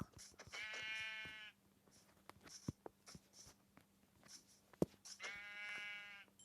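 Sheep in the Minecraft video game bleat twice, one wavering call near the start and another near the end, with soft clicks and taps in between at low level.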